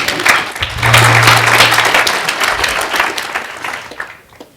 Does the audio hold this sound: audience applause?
yes